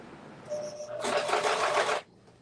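A sewing machine stitches fabric in a steady, fast burst lasting about a second, close and fairly loud, preceded by a brief lighter whir during a home crafting session.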